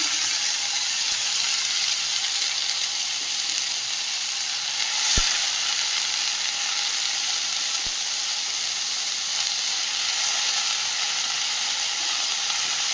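Tender red amaranth greens fry in a pan with a strong, continuous hiss and sizzle. Two brief clicks sound partway through.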